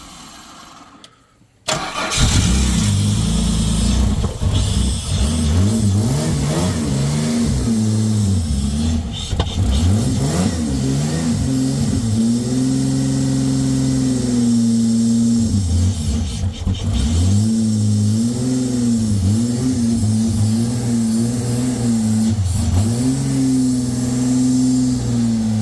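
An old Australian car engine cranks and catches, then settles into a loud idle with repeated revs rising and falling over about twenty seconds, heard close with no talk.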